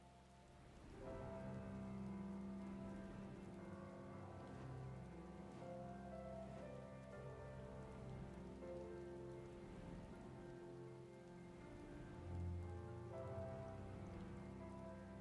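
Steady rain falls in Final Fantasy XIV: Shadowbringers, a continuous close hiss of drops on surfaces running throughout beneath layered game music, with no voices.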